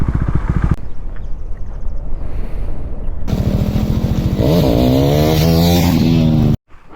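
A motorcycle engine rumbles as the bike rides off-road toward a lake point, with wind buffeting the microphone. The engine pitch rises and falls while it revs over rough ground, and the sound cuts off abruptly near the end.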